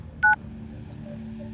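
Two short touch-tone dialing beeps, close and clear, separated by a pause over a low steady hum, as a phone call is dialed.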